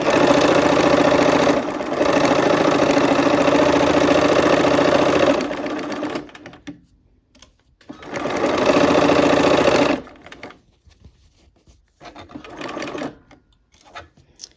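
A sewing machine stitches the last seam of a quilt block in two loud, fast bursts of rapid mechanical whirring, each lasting several seconds and separated by brief pauses and quiet handling of fabric.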